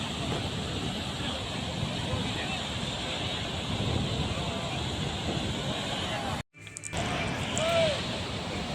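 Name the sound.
water rushing down from Gorur (Hemavathi) dam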